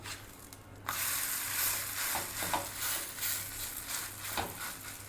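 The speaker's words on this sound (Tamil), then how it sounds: "லைட்டாக மேலே எண்ணெய் விட்டுக்கோங்க கொஞ்சம் வேகட்டும்" Rice roti cooking in oil on a pan gives a soft, steady sizzle close by, broken by a few light scrapes and taps, with no talking.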